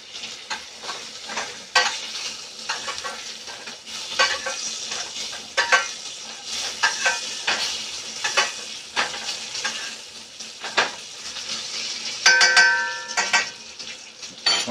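A filet mignon steak sizzles loudly in a hot pan while being basted, with continuous frying crackle and irregular clinks and scrapes of a spoon against the pan, no talking.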